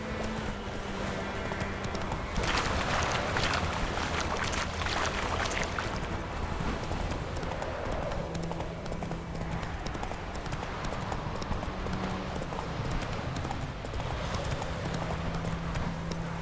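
Horse hooves clip-clop at a steady walking rhythm in The Witcher 3, continuous and fairly loud over a constant outdoor ambience with a low droning background.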